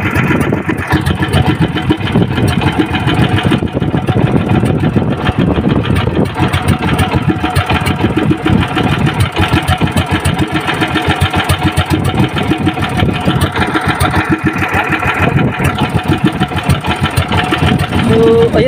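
A boat engine of a Filipino outrigger fishing boat runs steadily, a loud continuous mechanical clatter and drone close by, with voices talking over it throughout.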